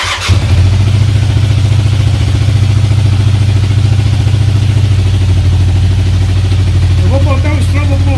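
A motorcycle engine starts with a brief crank and settles into a loud, steady idle close by during carburetor tuning, with a voice briefly talking near the end.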